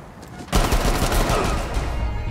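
Sustained burst of gunfire in Rainbow Six Siege on the Oregon map, a loud sudden volley starting partway in and continuing as dense rapid shots to the end.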